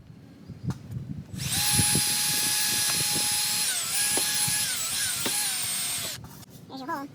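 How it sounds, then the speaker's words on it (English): A power drill bores a hole into a 2021 Ram 2500 truck bed, whining steadily at high pitch for about four seconds and dipping as it bites in, close up, with brief talk and clunks before and after. "And so I'll drill a hole."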